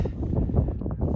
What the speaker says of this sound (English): up here on top of Muir Pass, it is incredibly windy